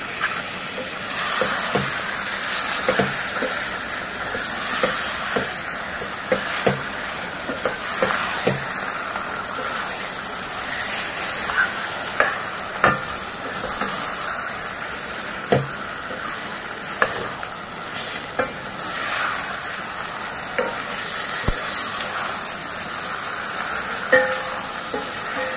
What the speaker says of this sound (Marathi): आणि हे आलं लसूण घातलेलं जे मटण आहे ते आपण यामध्ये आता घालूया